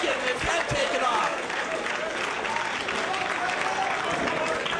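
Wrestling crowd at a match cheering and applauding, a dense, steady roar of clapping and voices, while a commentator talks over it.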